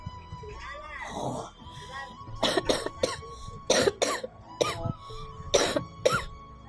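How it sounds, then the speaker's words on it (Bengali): A sick woman coughs repeatedly, with a raspy, wheezing breath first and then about five close, harsh cough bursts spaced irregularly in a quiet room. "আমার কাশি কম না ওঠে না"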